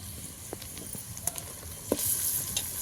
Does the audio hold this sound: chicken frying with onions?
yes